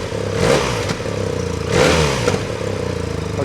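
Engine fitted with an Akrapovic titanium decat header exhaust revs twice in sharp, loud blips over a steady rumbling idle, with raspy metallic crackle between pulls.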